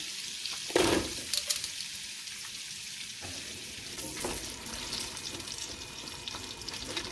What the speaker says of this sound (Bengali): এবার এখানে দিচ্ছি বাটার। এখানে দিচ্ছি অনিয়ন।